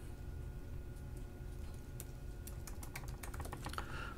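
Someone types an email address on a computer keyboard, producing quick bursts of key clicks that cluster toward the end over a faint steady background hum, quiet and close.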